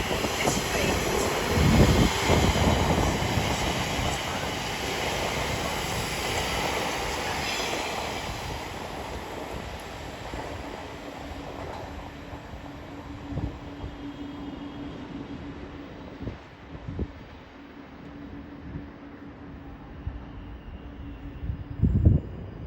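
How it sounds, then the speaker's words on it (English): Greater Anglia Braintree to London Liverpool Street service arriving at Stratford station platform, a loud rumbling approach with a rising brake whine and wheel squeal, the roar fading to a steady tone and clunks as it slows. "Our one in now is the 1653 Greater Anglia service from Braintree to London Liverpool Street."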